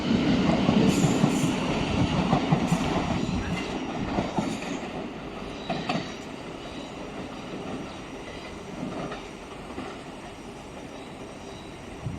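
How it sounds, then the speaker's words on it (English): A passenger train pulls away from a station near Ifield and curves toward Crawley, wheels squealing and clattering loudly up close at first, then the rumble steadily fading as it moves off. "the train just departing here is just turning right towards Crawley, Ifield, Horsham"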